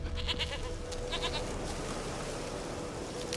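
A few short goat bleats in the video game The Witcher 3 rise over a constant background hum, fairly faint and set slightly back.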